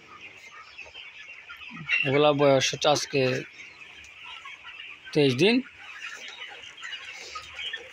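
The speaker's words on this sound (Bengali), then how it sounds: "এগুলো হচ্ছে আমাদের এখন ব্রয়লার মুরগির বাচ্চাগুলা" Twenty-three-day-old broiler chicks in a poultry shed keep up a dense, steady chorus of chirping, while someone talks over them in short bursts.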